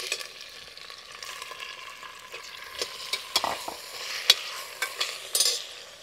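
Mutton pieces added to golden-browned onions in hot oil, frying with a steady sizzle while being stirred, with scattered sharp clicks and scrapes of the spoon against the pan.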